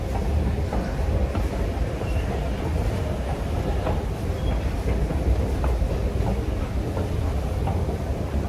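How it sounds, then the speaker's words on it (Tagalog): An underground train in Germany rumbles steadily, with low clattering rail noise and faint clicks continuing throughout. "Bali pababa na tayo sa underground train."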